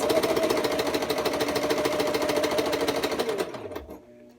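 Sewing machine stitching a circle skirt waistband with a rapid, steady mechanical clatter, running close and loud for about three and a half seconds before slowing and stopping.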